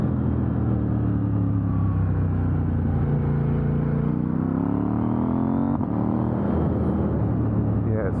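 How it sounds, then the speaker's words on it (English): A KTM 890 Duke R motorcycle being ridden, its exhaust droning loudly and continuously with rising and falling engine pitch as it accelerates and shifts, wind noise mixed in throughout. "That exhaust just lets off this wicked little pop when you use quick shifter as well."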